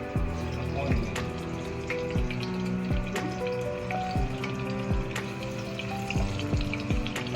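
Tofu frying in a pan, a steady dense sizzle with scattered sharp pops and crackles running throughout, fairly close and loud, with no talking.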